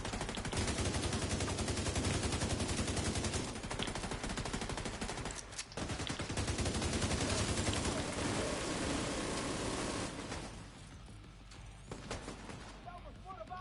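Dense automatic gunfire rattles continuously in the shooter game Tom Clancy's The Division 2, loud and close, easing off near the end as voices talk over it.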